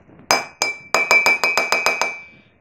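A spoon clinking against a mug holding chestnut cream, about ten bright ringing taps, a few spaced strikes and then a quick steady series, close and alone.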